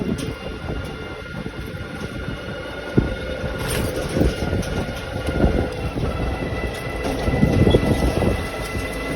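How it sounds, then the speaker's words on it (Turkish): Strong wind roars continuously across the microphone, with rumbling gusts and occasional sharp knocks, loud and unbroken throughout. "çok gerçekten çok rüzgar esiyor"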